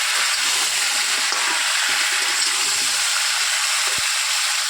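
Papaya and potatoes tumble into a hot pan and sizzle steadily, a dense, even frying hiss with faint scraping as the vegetables are stirred together, no voices.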